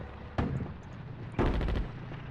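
Artillery fire in the World War II strategy game Attack at Dawn: North Africa, set at the First Battle of El Alamein: two loud booming blasts about a second apart, the second heavier and rolling, with no talk.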